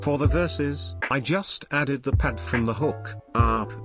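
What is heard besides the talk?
No everyday noise stands out behind the speech.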